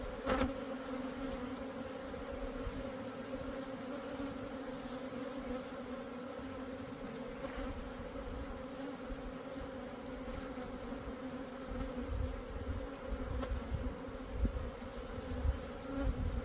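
Korean native honeybees drone steadily at their hive, a continuous low buzzing of many bees, fairly faint and even throughout with no talking.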